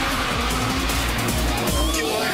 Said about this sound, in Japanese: これぞ本物のドリフト